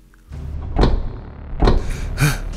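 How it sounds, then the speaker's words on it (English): Heavy knocking on a wooden door as an audio-drama effect, two or three loud, booming thuds spaced apart with a rattling tail, close up and without speech. "the door shook from the heavy knock"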